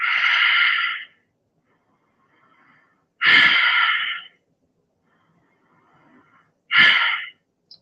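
Three slow, deep breaths during a yoga pose, each a loud breathy exhale lasting about a second, separated by quiet pauses, close and alone with no talk.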